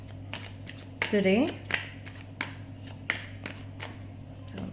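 Osho Zen tarot cards being shuffled by hand, a soft riffle and a few light flicks and taps, faint and close beneath a quiet room hum, with brief speech.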